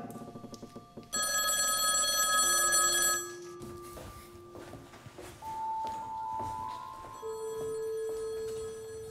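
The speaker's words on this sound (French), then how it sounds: "Je vous interdis de répondre à ce téléphone." A telephone bell rings in bright repeated bursts, followed by sustained electronic tones and soft background movement, with no talk over it.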